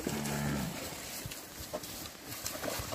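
A cattle herd on a Brazilian farm being driven toward a corral. One low, drawn-out moo opens the clip over a steady outdoor din, followed by scattered hoof thuds and shuffling.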